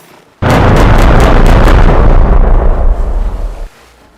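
Airstrike explosions in a video game: a sudden loud blast opens a dense, rumbling burst with a rapid series of sharp pops in its first second, then the roar sustains for about three seconds before cutting off.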